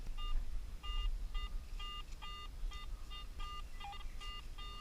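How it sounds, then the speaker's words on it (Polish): A Garrett AT Pro metal detector sweeping a forest floor gives a strong signal, a run of short electronic beeps in quick regular bursts over soft outdoor background noise. "Taki tu mamy duży sygnał."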